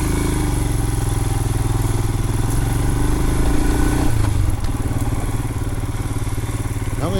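A Royal Enfield Himalayan motorcycle engine chugs loudly and close on a rough mountain jeep trail, its throb shifting and labouring partway through amid knocks and clatter.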